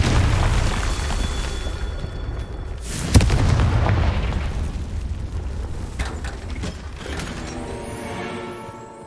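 A Confringo spell explodes in the video game Hogwarts Legacy with one sharp, loud boom over a steady rumble of game noise, followed by fainter crackling impacts that slowly fade.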